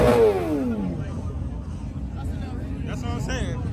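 A dirt bike engine at a car meet revs up and falls away in a sharp, loud sweep at the start, then idles more faintly under background chatter and voices.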